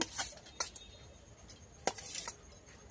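Small chopped potato pieces dropped into a bowl, a scattered series of light clinks and taps at irregular moments, faint and close with quiet gaps in between.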